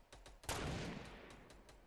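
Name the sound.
sniper rifle shot in a battle royale video game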